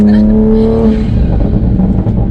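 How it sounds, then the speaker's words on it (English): A revving tuned Toyota Supra A90 engine with a steady drone that breaks into rapid crackling pops from the exhaust, loud and close. "what do you think about the pops?"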